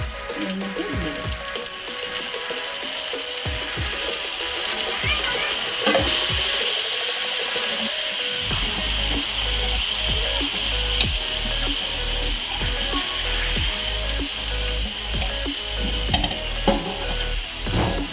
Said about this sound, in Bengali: এবার ম্যারিনেট করা মাংস এর মধ্যে দিয়ে দেবো।